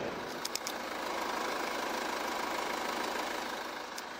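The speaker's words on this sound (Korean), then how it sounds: "일반적인 카니발보다 훨씬 조용한 엔진 소음이 난다" Kia Carnival R 11-seater diesel engine idling with the hood closed, a faint, even, muffled hum with a light diesel rattle, steady throughout and without voices.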